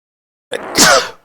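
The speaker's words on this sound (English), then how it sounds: "I think I'm going to sneeze." A single sharp sneeze, close and loud, with a brief inhaled buildup before the burst, then silence.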